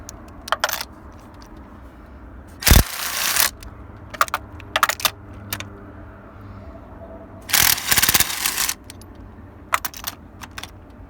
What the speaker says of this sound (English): So now we're going to remove the spark plugs.